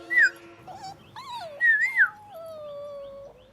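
A dog whimpers and whines in short high, wavering cries, then a longer falling whine, close and alone without talk.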